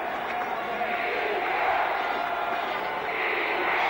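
A football stadium crowd in an American football game against Houston, a dense sustained roar of many voices with a rhythmic chanting swell, loud and continuous throughout.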